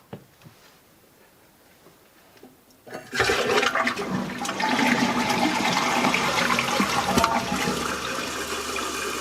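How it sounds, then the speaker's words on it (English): A DIY toilet with a Toto flush tank fed by a silver flexible hose and a pump gives a few faint clicks, then a sudden loud flush that settles into a steady rushing refill for the rest. "So I flushed it"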